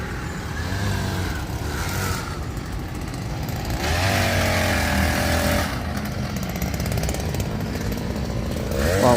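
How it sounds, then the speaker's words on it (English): A power tool drills holes in the ground of a Manhattan park where flowers are being planted, its harsh motorized whine rising and falling in steady bursts amid continuous outdoor city noise. "They're drilling holes."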